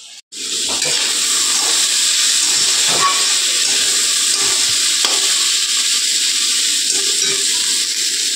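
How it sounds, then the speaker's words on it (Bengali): Sliced bitter gourd sizzles loudly in a hot pan, a continuous frying hiss with occasional soft clinks of a utensil stirring. "এখন বসাবো আগে উচ্ছে ভাজাটা।"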